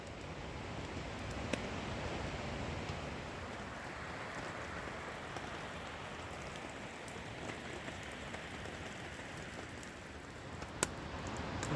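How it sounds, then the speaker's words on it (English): Steady rain patters on a camping tarp beside a mountain lake in the Pacific Northwest, a dense, even hiss of drops with no one talking. "listening to the rain on the tarp."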